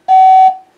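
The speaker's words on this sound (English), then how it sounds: "We're gonna let it beep." A loud, steady electronic beep of under half a second sounds once from the original AM radio of a 1970 Chevelle SS, then fades quickly into silence.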